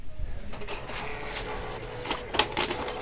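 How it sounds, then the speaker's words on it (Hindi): An Epson L1800 inkjet printer printing a nozzle check page, a faint mechanical whir with light clicks and a brief paper-feed rasp near the end, heard up close with no talking. "सबसे पहले एक नोज़ल चेक प्रिंट करते हैं।"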